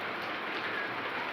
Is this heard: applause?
no